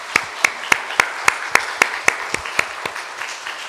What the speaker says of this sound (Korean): 같이 한번 격려의 박수 한번 하겠습니다